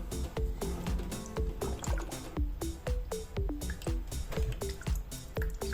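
Engine oil drips steadily from the drain hole of a Yamaha FZS600 motorcycle into a pan, a near, rhythmic run of distinct wet plops about twice per second.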